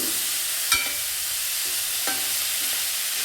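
Carrots and green beans stir-fried in a pan for vermicelli bhath, a steady broadband frying hiss with a few soft scrapes of the spoon against the pan, no talking.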